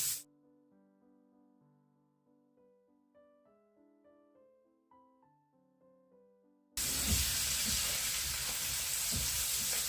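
Soft melodic notes play, then a loud, steady crackling sizzle bursts in and continues alone: onion frying hard in very hot lard.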